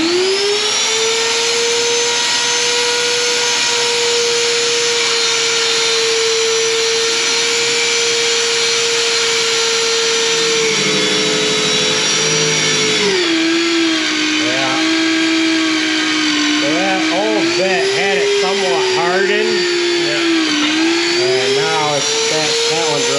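A power drill fitted with cheap stock bits whines at high pitch, steady for a stretch, then dips and wavers as the load changes against the work, loud and close with some talk mixed in.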